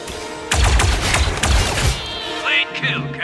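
Burst of gunfire and impacts from the video game Star Wars Zero Company, several loud close shots clustered together followed by fainter game effects.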